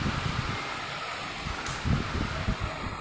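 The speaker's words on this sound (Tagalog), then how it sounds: "lakas ng hangin." Strong typhoon wind gusts roar and rustle against the microphone in a continuous broadband rush, swelling briefly near the end.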